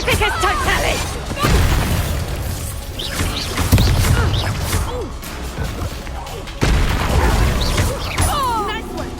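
Confringo blasting curses and combat spells in Hogwarts Legacy burst and crash repeatedly amid a chaotic fight, with a person talking throughout over the loud impacts.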